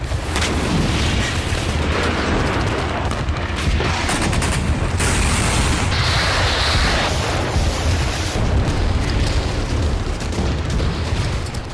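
An explosive trap detonating in Gaza amid fighting, heard as a dense barrage of booms and gunfire-like blasts that overlap continuously, loud and harsh from start to finish with no talk.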